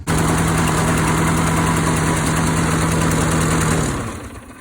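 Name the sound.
lawnmower engine running poorly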